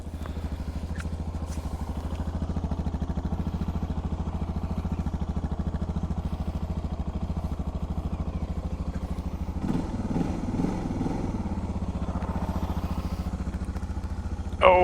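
A Suzuki DR650 dual-sport motorcycle on light choke runs steadily at a low, even idle, close by, its thumping rhythm interrupted by a brief clatter of revving partway through and a sharp knock at the end.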